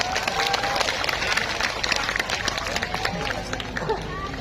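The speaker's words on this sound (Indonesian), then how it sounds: "Tepuk tangan untuk BSI" Crowd at an evening religious lecture applauding a sponsor, a sustained wash of many hands clapping with murmuring voices mixed in.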